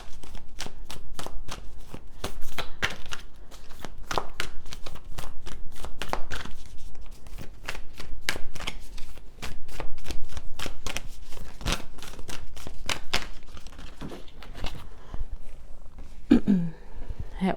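Oracle cards from an Ancestor Spirit Oracle deck being shuffled, a dense run of crisp flicking riffles repeating steadily throughout, close and fairly loud, with no voices.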